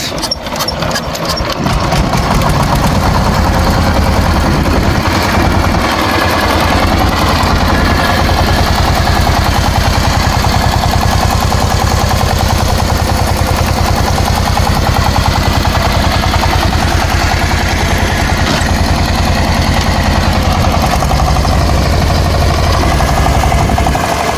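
A power tiller's engine splutters into life and then roars loudly and steadily while it plows a field, its hard, rapid chugging filling the whole stretch.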